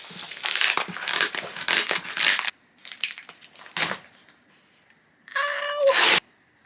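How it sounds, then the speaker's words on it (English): Paper and plastic wrapping of a book parcel is torn and crumpled by hand without scissors, in several loud, close bursts of ripping and crinkling separated by short pauses. "I have my Waterstones package here, which should be more Brandon Sanderson books. Unfortunately, I don't have scissors with me, so I might just struggle real quick"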